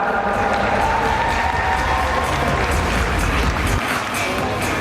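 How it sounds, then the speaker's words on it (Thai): A crowd at a press-conference stage event claps steadily for a children's hospital foundation receiving an auction donation, a dense continuous wash of many hands that holds evenly and eases slightly near the end. "ปรบมือดังๆครับ"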